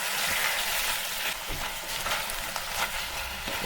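Onions fry in a pan during longganisa cooking, giving a steady, close sizzle with a few scraping, stirring sounds mixed in. No one speaks.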